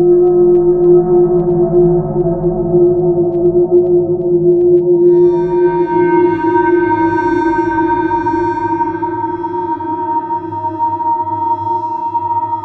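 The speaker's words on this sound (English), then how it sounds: "Lots of ring modulation going on here." A creepy U-he Zebra 2 synth pad with heavy ring modulation and comb filtering sustains as a dense, metallic drone, and its tone brightens and thickens partway through.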